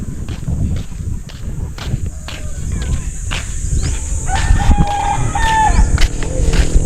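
Chickens cluck and a rooster crows nearby, mixed with scattered clicks and footsteps, the crowing rising louder toward the end.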